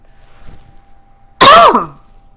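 One sharp, close throat clear that turns into a short cough, loud against a quiet, faintly humming background.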